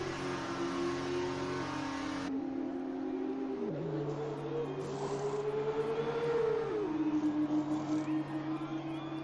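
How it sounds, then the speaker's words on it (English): An F2 racing car in a video game rolls along the pit lane at the Canada circuit, its engine a steady, close whine that glides up and down in pitch, with a hum of background noise underneath. "Stenner speeds in the pit lane."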